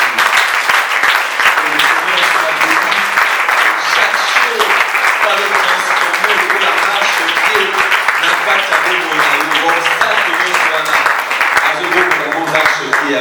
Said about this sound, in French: tu peux acclamer très fort pour Jésus là où tu es